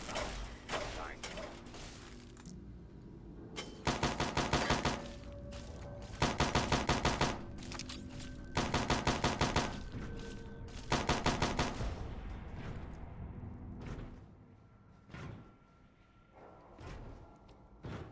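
Bursts of automatic gunfire from an enemy upstairs in a Fallout video game, four loud rapid volleys a second or two long each, separated by short gaps with mechanical clatter and quieter background sounds.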